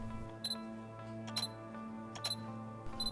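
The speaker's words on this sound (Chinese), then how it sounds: "每次扳完快门对焦的时候，也能听到对焦组的噪音非常大。" Sony 28-135 G power zoom lens with a faulty focusing group, a run of faint repeated mechanical clicks and whirring ticks over a steady low electrical hum, close up with no talking.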